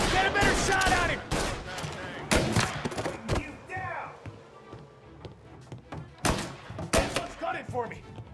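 Gunfire in Mafia: Definitive Edition, a series of sharp, loud shots spread across the clip, some in quick pairs, mixed with game voices shouting over the action.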